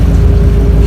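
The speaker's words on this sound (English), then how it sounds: "So here we are on the boat in Hamburg." A boat's steady, loud, low engine drone rumbles on the water in Hamburg, Germany, with constant churning and no voices.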